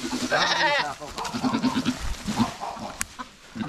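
A mother goat bleats in loud, wavering cries up close while giving birth, followed by softer bleats and faint background sounds.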